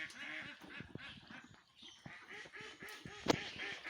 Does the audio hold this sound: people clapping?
no